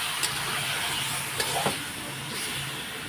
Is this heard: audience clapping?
no